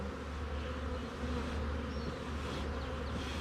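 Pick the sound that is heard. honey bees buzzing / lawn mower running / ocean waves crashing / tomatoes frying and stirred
honey bees buzzing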